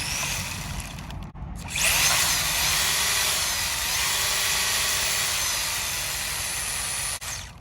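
A vintage Traxxas 4Tec 1.0 RC car with a mechanical speed controller runs nearby, its small engine giving a loud, steady, high-pitched whine that surges after a brief drop and holds, with no talking.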